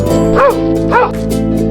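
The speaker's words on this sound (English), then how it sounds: "Dog." A dog barks twice in quick succession, loud and close, with a musical backdrop underneath.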